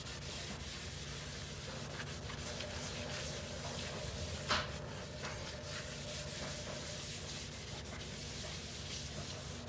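Scrubbing a white sink with borax, lemon juice and a little Blue Dawn soap, a soft continuous rubbing scour close by with a brief sharper scrape midway, no voices.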